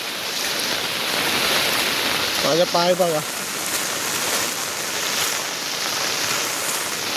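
Monsoon floodwater rushing across a flooded road in Vasai-Virar, a continuous broad roar of flowing water with a brief voice speaking partway through.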